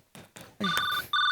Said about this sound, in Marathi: माझा फोन आहे, मी माझं बघेन.